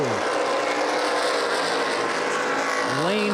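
Late model sportsman stock cars racing at Lucas Oil Raceway in Indianapolis: loud close engine roar throughout, with pitch sweeps as cars brake into a corner and accelerate by, under a commentator's voice.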